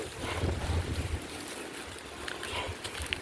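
Cold wind blows outdoors, a steady rushing roar buffeting the microphone up close for the whole stretch, with no talking.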